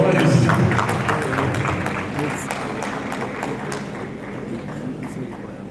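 An audience at an economic summit lecture in Ile-Ife, Osun State, applauds the introduction of a speaker on housing: steady, dense clapping that stays loud throughout, gradually easing toward the end, with voices mixed in.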